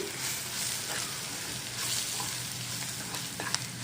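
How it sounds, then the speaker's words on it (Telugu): A brinjal curry sizzles steadily in the pan as fried sesame, chillies, cumin and spices are stirred in, a dense even frying hiss with faint scraping and a couple of small clinks, close and without speech. "అవి కూడా ఇందులో వేసేసుకోవాలి వేసేసుకుని ఒకసారి అంతా మిక్స్ చేసుకుందామండి"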